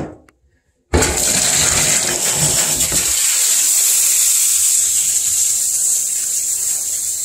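After a short silence, water suddenly sprays onto a shower surface during cleaning, a steady close hissing rush that carries on to the end.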